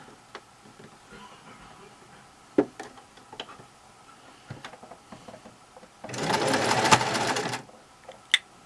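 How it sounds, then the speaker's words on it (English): A sewing machine stitches a quarter-inch seam on a quilt block in a short, close burst of rapid mechanical whirring lasting about a second and a half, surrounded by quiet handling clicks and taps. "my sewing machine doesn't like going on to little teeny ends"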